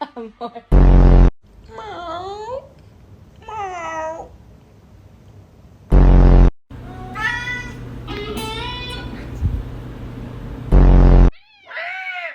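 A person imitates a cat's meow with several drawn-out, wavering mews, alternating with loud bursts of noise and real cat-like cries close by.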